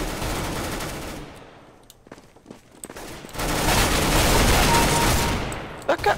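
Rapid automatic gunfire from Counter-Strike: Global Offensive in Arms Race mode: loud, dense bursts that thin out briefly, then return as sustained heavy shooting with a few sharp shots at the end.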